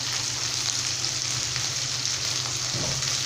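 Small shallots and fresh curry leaves sauté in hot oil for a cauliflower kurma masala, giving a steady, dense sizzle close up with no voices.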